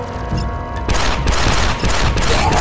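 Sustained gunfire in the Star Wars Republic Commando shooter, a dense, loud barrage of rapid shots that swells midway and keeps rattling throughout, with no voices over it.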